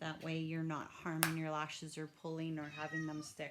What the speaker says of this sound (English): Sorry, that's my cat. She's coming in to say hello.